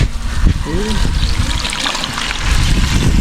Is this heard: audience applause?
no